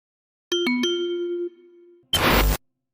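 Vibraphone-style 'Classic Vibes' percussion preset in FL Studio: three quick bright mallet strikes followed by one sustained ringing tone that slowly decays, then a short loud burst of noise.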